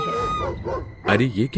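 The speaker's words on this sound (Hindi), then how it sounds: "तभी कुछ कुत्तों के भौंकने की आवाज आती है" Dogs bark in a dramatized Hindi folk tale: a few barks and yips rise after someone speaks, then more barking follows in quick bursts, close and fairly loud over the talk.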